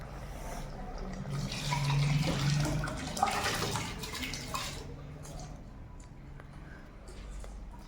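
Rice goes into a pot of boiling, spiced water for home-cooked chicken biryani, making a steady bubbling and sloshing of liquid that swells midway, then settles to a lower simmer.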